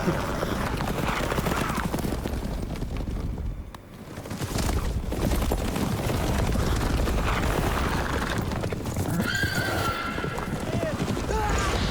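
Horse galloping in The Witcher 3, hooves clip-clopping in a rapid steady rhythm under game music and effects, with someone talking over it and a brief whinny.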